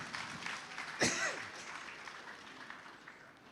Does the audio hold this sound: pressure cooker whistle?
no